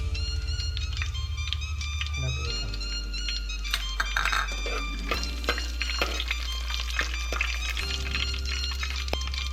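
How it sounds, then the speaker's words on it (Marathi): Whole garam masala frying in hot oil for a crab curry, a steady sizzle with metal spoon clinks and stirring scrapes scattered throughout, close and fairly loud, no talking. "आता आपण गरम मसाला तेलामध्ये फ्राय करणार आहोत, अख्खा गरम मसाला."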